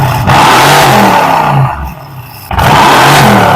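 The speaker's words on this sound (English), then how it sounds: "We're gonna give some revs real quick." Mercedes-AMG car at a dragstrip revving hard, very loud and close, with a sustained roar that drops off briefly in the middle before surging back to full volume.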